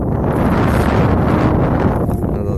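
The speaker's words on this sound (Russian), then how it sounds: "Ветер сильный, правда." Strong wind buffets the microphone outdoors, a loud, steady roar with gusty fluctuations throughout, no voices.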